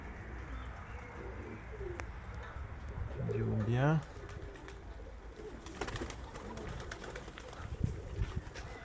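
A pigeon walking and pecking gives a single rolling coo up close amid soft outdoor background noise, followed by scattered light taps and clicks.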